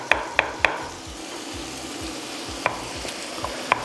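Chicken pieces fry on a bed of onions in a pan with a steady, close sizzle, broken by a few sharp clicks of utensil stirring against the pan.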